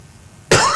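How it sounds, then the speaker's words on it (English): A single short, sharp throat clearing from someone speaking about insecurity in Edo State, abrupt and close after a quiet pause. "I need to clear my throat"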